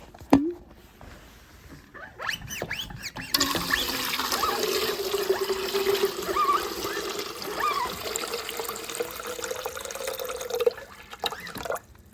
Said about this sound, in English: Let me get some hot water going.